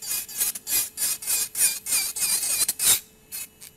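A small electric nail drill with a pink wizard bit spinning at 30,000 RPM grinds product off a nail in short, repeated raspy passes, close and fairly loud, with brief gaps between strokes.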